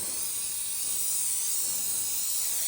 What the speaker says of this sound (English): Yeah, that's a much better spray pattern.